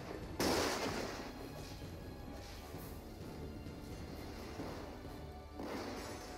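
Cannon towers fire in the strategy game Die Siedler 5, with heavy booming shots landing at intervals over a steady wash of battle noise and no voices.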